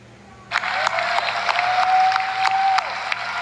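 Applause from a congressional audience greets Congressman Martin Romualdez's privilege speech: a sudden, loud, dense wash of clapping that holds steady for about two seconds, with a thin sustained tone running through it, then tapers slightly.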